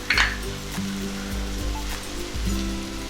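Spice masala with dhania-jeera powder, pav bhaji masala, Kashmiri chili powder and salt sautéing in a pan for street-style tawa pulao, a steady soft sizzle with occasional light clinks of a spatula.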